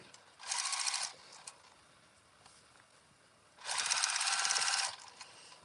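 A sewing machine stitches the final seam of a fabric microwave bowl cozy, running in two steady bursts of rapid mechanical whirring separated by a quiet pause, close and fairly loud.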